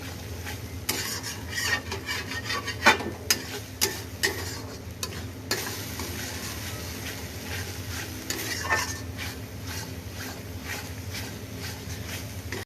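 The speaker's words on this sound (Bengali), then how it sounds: "আবার ভালো করে কষিয়ে নিচ্ছি মশলাটা।" Spice paste sizzles steadily in a pan while a spoon scrapes and stirs, with a few sharper clinks of metal against the pan.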